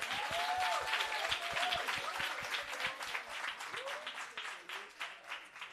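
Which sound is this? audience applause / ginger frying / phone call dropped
audience applause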